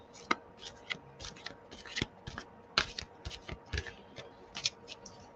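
Very large tarot cards shuffled lengthwise by hand, a rapid run of crisp riffling flicks and soft slaps at close range, steady and uneven in rhythm, with no talk.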